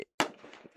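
A sharp firework bang at a ballpark on the Fourth of July, with a brief pop just before and a decaying crackly rumble after the main report, heard without talk.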